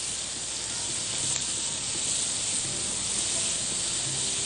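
Onions frying in a pan for a meat-with-onions dish, giving a steady, even hiss and sizzle throughout, close and unbroken, with no talking.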